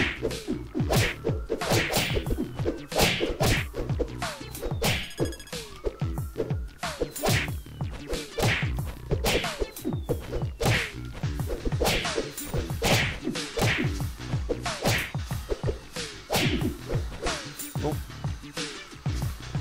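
Rapid, relentless punching and kicking hits from the brawler video game Fist Puncher, sharp whacks and thuds piling up densely over background game music.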